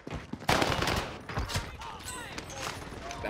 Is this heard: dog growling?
no